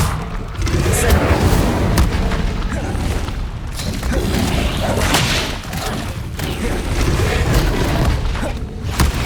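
Incendio fire spells cast in Hogwarts Legacy erupt as loud, dense bursts of booming, crackling magic that run almost without pause, with thuds and whooshes layered throughout.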